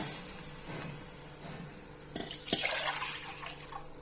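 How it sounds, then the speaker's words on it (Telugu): Water trickles steadily, then splashes louder into a pot for chicken biryani midway with a few clinks, no voices present. "ఇప్పుడు ఒక గిన్నె పోస్తున్నా కదా"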